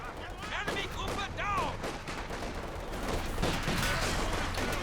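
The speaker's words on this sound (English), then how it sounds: "Machine gun getting a little bit of suppression in" Rapid machine gun fire rattles through a Company of Heroes 2 multiplayer battle, dense and continuous over about five seconds, mixed with other gunfire and explosions and with a voice partly audible beneath the din.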